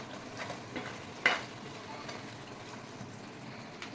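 Godavari-style fish curry (chepala pulusu) bubbling in a pot, a soft steady simmer with a brief sharp clink of a utensil partway through.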